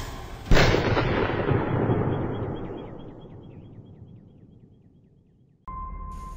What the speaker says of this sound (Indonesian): Keris itu terbang dan terdengar suara letusan sangat keras